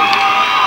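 Crowd noise at a women's college basketball game as fans give a big cheer for a senior player checking in, a dense, steady roar of voices held through the whole short moment.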